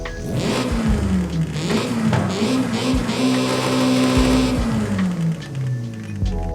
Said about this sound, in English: This is how the sport one sounds.